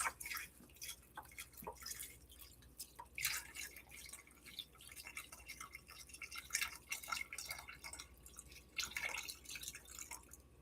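Beef stock poured into a pot for burgoo stew, heard as steady dripping and splashing liquid with small irregular drops throughout, close and moderately quiet.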